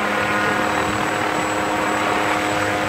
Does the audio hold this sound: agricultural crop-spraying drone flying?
yes